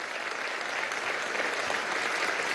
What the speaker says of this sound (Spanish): Pido también un aplauso a esa oposición valiente, heroica